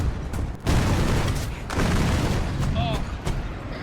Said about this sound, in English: I think there's a guy shooting at you.